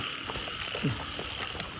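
Frogs croaking at night in a flooded rice field, a few short croaks standing over a steady insect and frog chorus, moderately near and fairly quiet.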